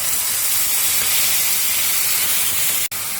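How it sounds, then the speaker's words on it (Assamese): A paste of ground onion, cumin, ginger and garlic frying in oil, giving a loud, even, continuous hiss throughout with one brief break near the end. "প্ৰথমতে মই এই মছলাৰ পেষ্টখিনি ইয়াত ভাজি ল'ম"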